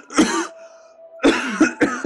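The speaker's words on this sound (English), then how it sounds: "How long have you had that cough?" A harsh, wet cough racks a man in a damp, moldy cellar: one burst, then a pause, then three quick coughs in a row. The coughs are close and loud, with no talking.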